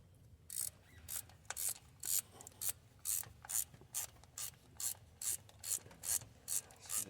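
A ratchet wrench snugs down a nut on a head stud of a 6.5L truck engine, producing a steady series of about fifteen quick, close ratcheting clicks in an even rhythm.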